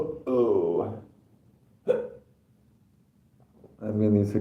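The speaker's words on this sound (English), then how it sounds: "I'm getting these hiccups because I ate cereal" A single sharp, close hiccup after eating cereal pops out between two stretches of a person talking.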